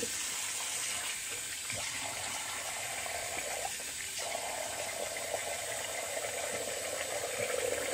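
Hot water runs steadily from a bathroom tap during wet shaving, a soft continuous hiss and splash at low level that holds unbroken throughout.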